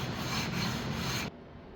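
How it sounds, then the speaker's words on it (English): Sanding of a wooden guitar neck for a carbon series guitar build: a steady, close abrasive rubbing that runs continuously, then abruptly drops to a faint residual hiss near the end. "Right back to sanding."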